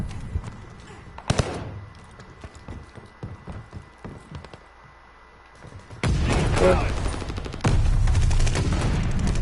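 Gunfire in the Call of Duty Vanguard video game, a barn setting, cracks out in scattered single shots and then erupts into dense, loud bursts of rapid fire, with faint hoof-like clatter and a brief voice early on.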